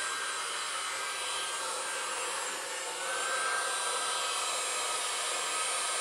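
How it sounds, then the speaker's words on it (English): A heat gun blows steadily on the rubber boot of a Volkswagen swing axle, giving a constant close hiss and whoosh that dips slightly near the middle and then carries on unchanged, with no talk. "You're using enough heat with a heat gun like this that you can cause yourself a burn"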